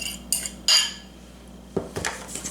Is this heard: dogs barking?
no